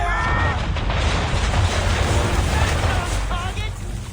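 Ship cannons fire a broadside in the Assassin's Creed III video game, a dense, loud, continuous roar of booming shots with a voice briefly audible over the barrage.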